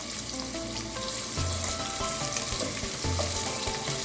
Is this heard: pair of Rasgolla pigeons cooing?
no